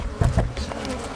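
Honey bees buzz in an opened hive during a fall check, a close, steady drone that holds through the whole moment, with a few brief louder swells near the start.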